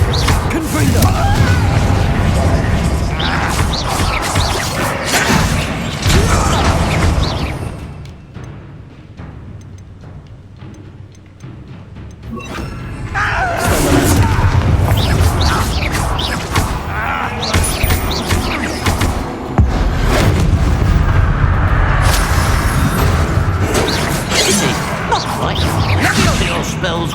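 Confringo fire spell blasts in Hogwarts Legacy, loud booming explosions and whooshing crashes with a brief quieter lull between bursts.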